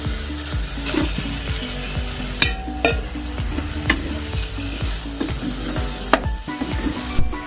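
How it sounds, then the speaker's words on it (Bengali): Pointed gourd being stirred into a frying tomato masala, producing rhythmic spatula scrapes and clanks against the pan over a constant loud close sizzle, with sharp knocks now and then and no talking. "এবার আমি পটলগুলো মিশিয়ে দেবো এর সঙ্গে"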